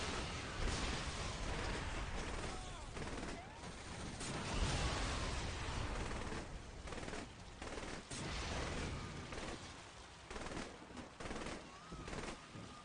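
Rapid bursts of gunfire and explosions in Saints Row 3 Remastered, dense and chaotic, with booming blasts rising over a constant roar of action.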